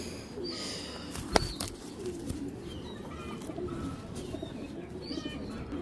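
A male Giribaz pigeon coos in soft, low repeated phrases close by, with a brief sharp knock early on and faint chirps and rustling around it.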